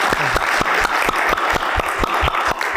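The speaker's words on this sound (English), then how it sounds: "Let's hear the applause for Ray" An audience at a city council meeting applauds, a fairly close burst of clapping with distinct individual claps, brief and steady.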